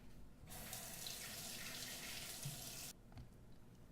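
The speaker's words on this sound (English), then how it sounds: "Sweet and sour sauce needs to be washed." Kitchen tap runs steadily into a sink while a sweet and sour sauce bottle is rinsed, a strong even rush of water starting abruptly and stopping just as suddenly after a few seconds.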